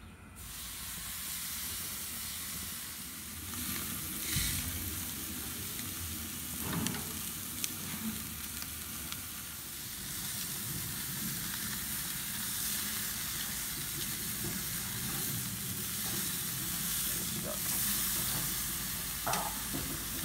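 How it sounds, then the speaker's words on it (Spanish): Steak sizzling on a hot grill, a steady close crackling hiss of frying meat that runs unbroken for twenty seconds, with occasional sharper pops and spits. "ponga el bistec en la parrilla."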